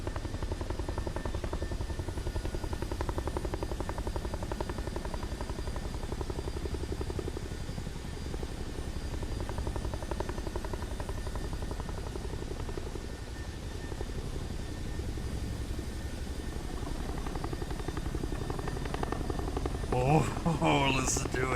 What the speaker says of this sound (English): I'm just gonna let you listen to the helicopter